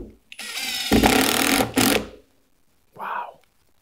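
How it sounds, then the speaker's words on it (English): A SKIL 12V PWRCore driver whirs loudly as it sinks drywall screws, a couple of short bursts of motor buzz with a brief gap, then a short voice afterward. "Let's drive a couple drywall screws."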